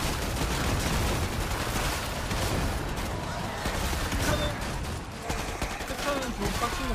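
Dense, near-constant automatic gunfire from Killing Floor 2, a Commando class fighting custom waves on the Bikini Atoll map, loud and rapid with overlapping shots while players talk over it.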